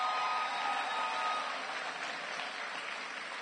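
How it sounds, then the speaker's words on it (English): Audience applause at a Bahamas primary school awards ceremony, a steady, even wash of clapping heard from a distance without a break. "Give yourself a round of applause,"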